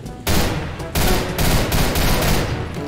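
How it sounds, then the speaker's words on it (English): Shotgun blasts in Left 4 Dead 2, played on a custom Mario-themed campaign map: several loud, close, booming shots spaced a fraction of a second apart, each ringing into the next. "I'll try the shotgun"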